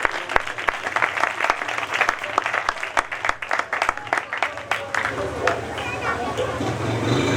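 A church congregation at a revival meeting bursts into applause, dense clapping from many hands with crowd murmur, loud and close, easing slightly toward the end as background voices continue.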